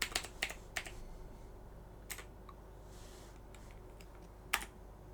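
Keys clatter on a computer keyboard in a few quick, sparse bursts of crisp clicks while numbers are entered in the naval ship designer of Ultimate Admiral Dreadnoughts, close and fairly quiet with no one speaking.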